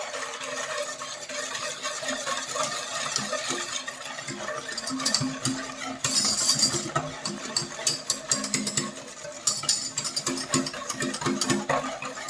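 Ingredients mixed with salt in a bowl, a continuous scraping and stirring with irregular clinks and scuffs that grow busier and louder toward the end.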